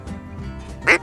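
A wild duck quacks loudly near the end of a duck hunt in the Nebraska Sandhills marsh, following a quieter stretch of faint background noise.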